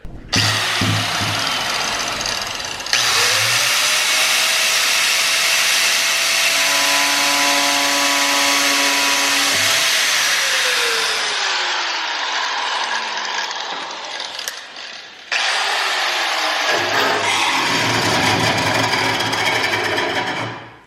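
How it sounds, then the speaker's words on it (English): A power tool cuts into a wide body fender kit on a Honda S2000, a loud continuous grinding whine with the motor pitch rising and falling, pausing briefly before a second cutting pass. "we have successfully cut into our wide body kit"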